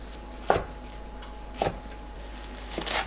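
A knife chops green onions into short lengths on a cutting board. Three separate sharp chops come at an unhurried pace, each a crisp thud against a quiet kitchen background.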